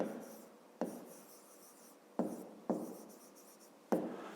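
Pen writing a fifth-grade math solution on paper, four or five quiet, close scratching strokes with sharp starts and fading tails, spaced irregularly with no voices.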